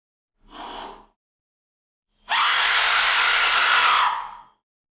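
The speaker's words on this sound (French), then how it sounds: "That sounds like the death whistle." An Aztec death whistle: a short breathy burst, a pause, then a long harsh rushing shriek lasting about two seconds before cutting off.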